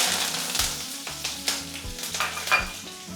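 Curry leaves hit hot oil already holding cumin seeds and urad dal, giving a steady, close crackling sizzle broken by repeated spatula scrapes and bursts of sputtering.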